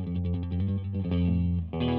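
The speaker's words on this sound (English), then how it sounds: "So that clean tone on the neck pickup of this Strat sounds like so." Clean tone from a Fender Stratocaster's neck pickup through a Supro Dual Tone 112 combo amp, a short run of played notes and chords, up close and alone with no voices.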